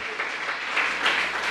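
A church congregation at a Spanish-language worship service applauds with a steady, dense wash of clapping that carries on evenly throughout, with no pauses or distinct individual claps.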